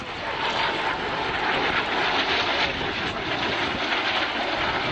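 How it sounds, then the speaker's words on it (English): A Folland Gnat jet taxiing at the Shoreham airshow, a steady loud engine whine and rushing roar held without break, fairly close. "It's a very, very old aeroplane taxiing in front of them."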